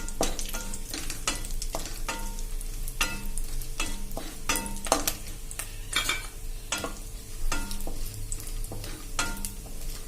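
Raisins frying in a pan are stirred repeatedly, with sharp scraping and clinking strokes from the spoon at an irregular rhythm over a soft, steady sizzle. The sound is close and moderately quiet, with no voices.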